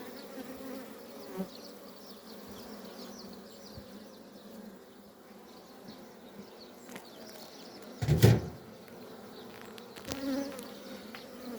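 A steady low drone of many honeybees buzzing close by, with a brief knock partway through.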